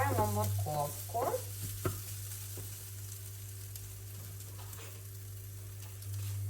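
Onion and grated carrot frying in a pan, a soft steady sizzle with stirring clatter near the start, then a continuous low hum underneath.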